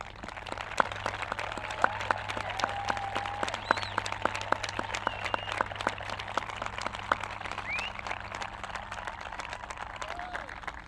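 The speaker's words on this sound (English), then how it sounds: "I'd like to give them a huge round of applause" High school graduation crowd applauding graduates headed into the armed forces, dense sustained clapping spread across a large outdoor audience, with a steady low hum underneath.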